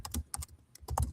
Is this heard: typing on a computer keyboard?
yes